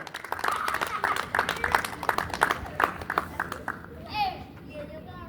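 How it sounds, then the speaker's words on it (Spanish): A church congregation at an evangelistic campaign gathering claps in a quick, uneven burst of applause, mixed with voices and children's chatter, then fades to murmuring. "Denle un fuerte aplauso al Señor"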